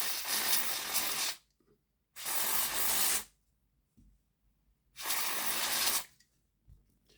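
Contact cleaner sprayed onto the pickup of a Bachmann Class 158 DMU model train, in three loud, close hissing blasts of about a second each, with short silent gaps between them.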